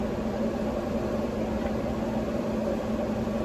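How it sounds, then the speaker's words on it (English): A microwave oven runs steadily while heating meat for a burrito wrap, giving a constant, fairly close electric hum and drone with no breaks or talking. "So next, we're gonna get our meat ready. Put it in the microwave."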